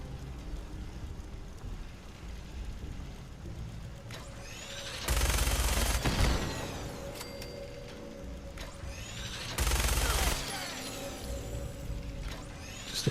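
Two loud, sustained bursts from an explosive minigun in Fallout 4, each about a second long and spaced a few seconds apart, stand out over low game ambience with no talking.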